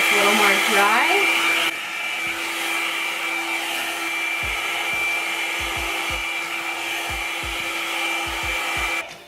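A Revlon One-Step Dryer and Volumizer runs with a steady loud whirring blow and high whine, close by, with soft brushing knocks through the hair and a click as it shuts off at the end.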